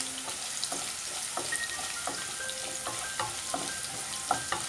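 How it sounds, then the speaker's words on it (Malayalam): Quarter cup of coconut pieces frying and being stirred in a pan for mutton roast, a steady close sizzle with crisp bubbling crackles and regular scraping strokes, with no voice over it. "ഇനി ഇത് ഗോൾഡൻ കളറായിട്ട് വരുന്നിടം വരെ ഒന്ന് മിക്സ് ചെയ്ത് കൊടുക്കാം."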